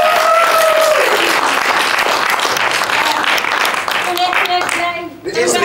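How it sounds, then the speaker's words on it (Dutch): Loud, dense applause from a crowd celebrating the winner of the Starter of the Year 2021 award, sustained throughout and fading slightly near the end, with a voice speaking over it. "Nog een keer een groot applaus"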